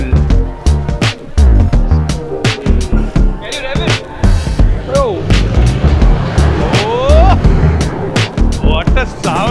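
Mercedes G-Wagon in Dubai, loud and close, with sharp crackling exhaust pops and short rising engine revs in quick succession.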